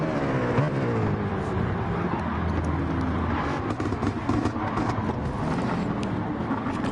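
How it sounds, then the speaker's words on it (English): A racing car's engine in a PS4 racing video game gives a strange, steady droning whine that holds on with a constant roar and no talk. "quite a weird engine sound, isn't there, from Toby's car"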